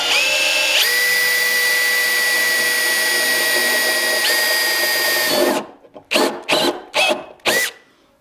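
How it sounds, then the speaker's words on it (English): A centre drill bites a small starter hole into steel on a rusty Escort Cosworth, a steady high whine running loud for about five seconds, then several short bursts as the trigger is pulsed. "we'll start by putting a tiny little hole in the steel with this centre drill"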